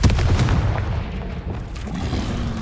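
A Confringo explosion spell goes off in a Harry Potter video game, a loud booming blast with heavy low rumble and crackling debris that rolls on for a couple of seconds.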